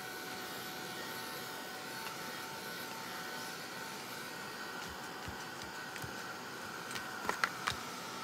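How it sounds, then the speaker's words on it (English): A craft heat tool blows steadily with a constant whooshing hum throughout, close and moderately loud, with a few small knocks and clicks near the end. "So I'll come in with the heat tool again."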